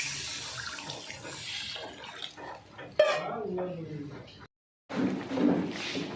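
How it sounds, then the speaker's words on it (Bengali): Water is poured into a pan of bhetki fish curry with potato and eggplant, making a short splashing rush among clinks of the pan and utensils, with a voice talking over it. "এবারে পরিমাণ মতো জলটা ঢেলে নিচ্ছি"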